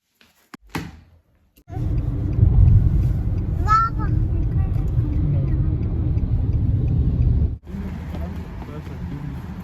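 Car interior with a steady low engine and road rumble while driving, a door thud at the start, and brief squeaky noises mid-drive; people talk over it.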